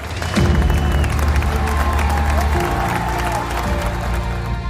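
Standing ovation with clapping and some cheering from a crowd, layered under a talking voice and tonal sounds, loud and sustained throughout.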